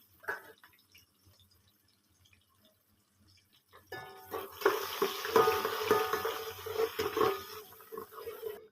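Sliced onions and cumin seeds fry in hot oil in a pan for jeera rice. A faint quiet opening gives way to a loud, close, crackling sizzle with bubbling and stirring.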